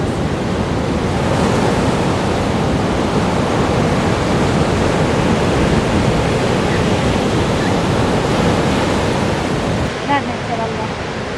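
Ocean waves surge steadily against the rocky Tenerife coast, a loud continuous roar of surf and wash with no break, heard close up.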